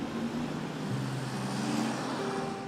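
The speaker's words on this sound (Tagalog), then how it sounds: "Kasabay ng mga ingay ng mga dumaraang sasakyan" Passing vehicles on a road beside where a jeepney driver tries to sleep make a continuous broadband roar, with an engine hum shifting in pitch, moderately loud and steady.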